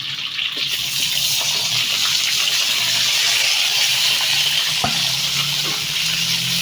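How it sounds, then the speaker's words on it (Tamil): Onions and tomatoes with curry leaves sizzle in a hot pan, a steady broadband frying hiss running unbroken throughout, with a few faint clinks near the end. "வெங்காயம் தக்காளி ரெண்டையும் சேர்த்து ஒன்றா கொட்டிக்கலாம்"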